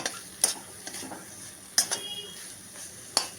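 Red amaranth greens stir-fried in a pan as they clump together, with a faint sizzle under a few sharp spatula scrapes and clinks against the pan, no talking.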